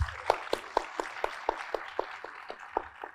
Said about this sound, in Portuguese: Uma salva de palmas, por gentileza.